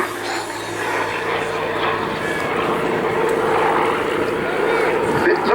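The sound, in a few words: Hawker Sea Fury radial-engine fighter aircraft at an airshow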